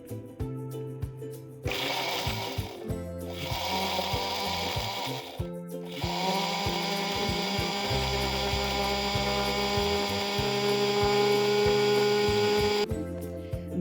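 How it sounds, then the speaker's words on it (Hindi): An electric mixer-grinder runs in bursts as it crushes whole seekh kabab masala spices, a loud whirring motor with rattling grit, stopping and restarting several times before a long continuous grind. "तो चलें ग्राइंड करते हैं व्यूअर्स।"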